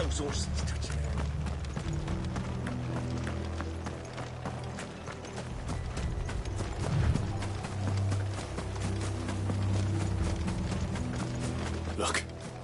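Horses clattering by in Final Fantasy XVI, rhythmic hoof clops under music and voices, with the galloping beat steady through most of the stretch.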